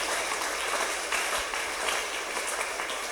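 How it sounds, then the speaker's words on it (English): A church congregation claps together, a steady wash of dense applause held at even loudness throughout, with no voices standing out. "Clap unto our Lord Jesus."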